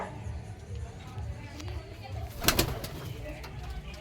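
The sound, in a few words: pigeons cooing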